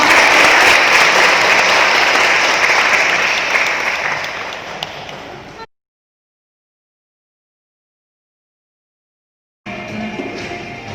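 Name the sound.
applause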